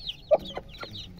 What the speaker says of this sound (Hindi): असील मुर्गे